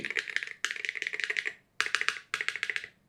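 Rapid, loud clacky keystrokes on an IROK MG75 Pro 75% Hall-effect mechanical keyboard with aluminium case come in fast bursts separated by short pauses, close and crisp.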